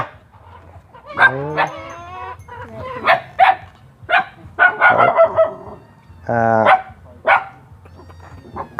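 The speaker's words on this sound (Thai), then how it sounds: "โอ้ยหมาเห่าพี่น้องเอ้ย" A dog barks repeatedly, loud and close, in a rural Thai farmyard setting where chickens are kept, with irregular bursts of barking and brief pauses between them.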